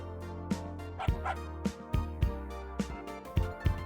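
A video game dog gives about eight short, yipping barks in an uneven rhythm over a steady tonal game soundtrack, fairly close and clear.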